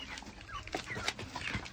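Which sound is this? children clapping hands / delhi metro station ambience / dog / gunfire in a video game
dog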